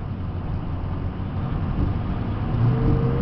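A Ford F550 4x4 diesel stake body truck accelerates, its engine note swelling steadily in a low, continuous drone that grows louder and slightly higher toward the end, heard from inside the cab.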